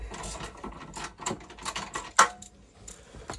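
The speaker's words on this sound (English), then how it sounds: "For this, you're going to need a 13mm socket. Just release these 2 nuts" A 13mm socket wrench works the two top nuts on the handbrake of a VW T6 van, giving a series of close, irregular ratcheting clicks and metallic taps with one sharper clack partway through.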